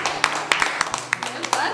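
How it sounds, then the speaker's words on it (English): Children clap for a classmate in a school active-play session, a scattering of sharp, uneven claps rather than sustained applause, with voices talking over them. "Give Dylan a clap for keep going."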